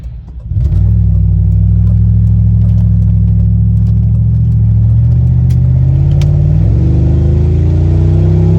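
An old beater car engine revs hard and loud from close by, dropping briefly and climbing again in a sustained, droning roar.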